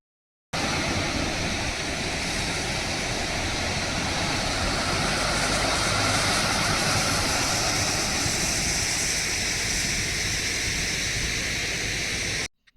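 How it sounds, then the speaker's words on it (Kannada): Water pours over the Yagachi dam near Belur, a dense, constant roaring rush that holds steady and loud throughout and then cuts off abruptly, with no talk. "ಈ ಡ್ಯಾಮಲ್ಲಿ ನೀರು ಇಳಿಯೋದು ನೋಡೋಕ್ಕೆ ಎಷ್ಟು ಚೆನ್ನಾಗಿದೆ"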